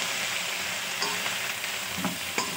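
Shrimp sautéing with garlic and onion in a hot pan, a steady close sizzle with occasional scraping stirs, no voices.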